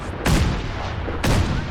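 Gunfire in the Fallout 4 VR video game: two loud, sharp shots about a second apart, each with a brief booming tail.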